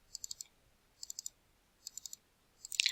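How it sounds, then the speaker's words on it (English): Computer mouse double-clicking while working in a database program, four quick groups of crisp, close clicks spaced about a second apart, faint and isolated, with a louder rustle at the end. "So we do that by double clicking."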